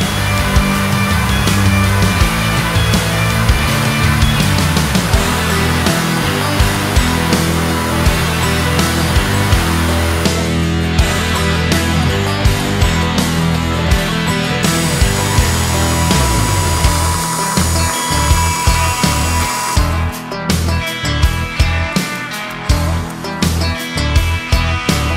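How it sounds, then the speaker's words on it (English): A bandsaw and grinders remove stock from a steel knife blank, giving a loud, continuous shop whine and grinding that shifts in pitch and intensity, with short pauses between passes. "To do that, we're going to use a bandsaw and then some of our trusty grinders."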